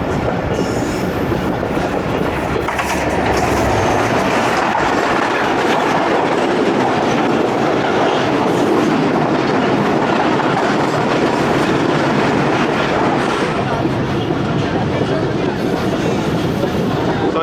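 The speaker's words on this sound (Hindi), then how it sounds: "यहाँ पे 11 अप हज़ारा एक्सप्रेस का एक्शन मिल रहा है।" The 11 Up Hazara Express rolls past at reduced speed near Bucheri station, a loud, close, continuous rumble of wheels and carriages with rhythmic clatter throughout.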